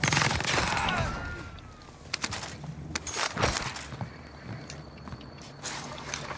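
Gunfire in a Call of Duty-style multiplayer match on Caldera, a burst of rapid shots at the start followed by scattered single shots and distant pops amid game noise.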